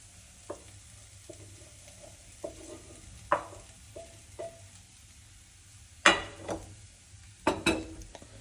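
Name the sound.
garlic sausage frying in a pot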